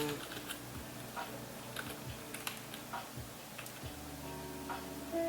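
Someone types on a computer keyboard attached to an old Athlon XP machine running Lubuntu. Light, irregular key taps come close but quiet over a low background hum, with brief pauses between bursts.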